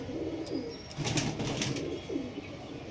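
Old-generation Star Kalanka show pigeons coo in low throaty rolls near at hand, a few overlapping calls with a brief flutter of wings in a quiet loft.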